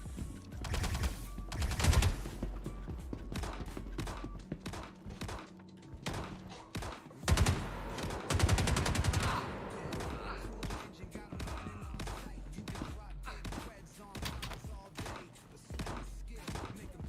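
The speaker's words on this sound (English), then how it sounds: "I heard gunshots, so I stopped." Gunfire in a video game, bursts of rapid automatic shots and scattered single cracks at moderate volume, clustered around a few intense stretches, with faint talk underneath.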